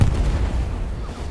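Anti-tank rocket fired at a medium tank in the World War II shooter Hell Let Loose, a short heavy boom with low rumble that quickly fades.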